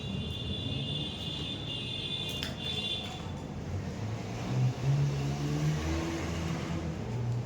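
A motorcycle speeds past on an Indian road with a steady engine roar that swells louder partway through as it nears. A thin, high whine sounds early on, and no one talks.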